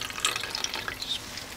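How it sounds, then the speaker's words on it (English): Titration reference solution being poured into a cup for a homemade biodiesel processor: a steady, close liquid trickle with bright splashy detail, running throughout. "take some of the titration reference solution and pour a little bit into the other cup"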